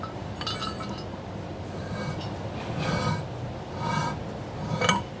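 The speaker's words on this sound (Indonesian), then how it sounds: "untuk pasangnya ini tinggal pukul dari atas ya" A wheel bolt is hammered down into place, with several sharp metallic clinks and taps ringing out at irregular intervals over low background noise, close by.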